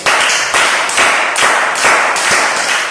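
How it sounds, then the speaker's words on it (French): An audience claps again, a dense run of loud, rhythmic claps in unison that keeps going for the whole stretch. "Applaudissez encore pour vous."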